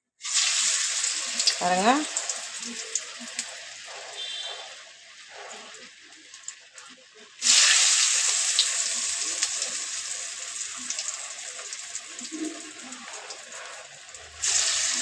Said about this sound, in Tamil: எண்ணெய் காஞ்சிச்சு. நம்ம வடை போட்டு எடுக்கலாம்.